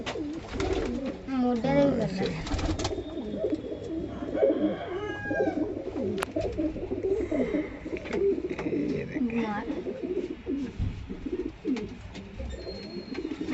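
Pet pigeons in a home loft coo softly and repeatedly, close by, beneath steady conversation between people.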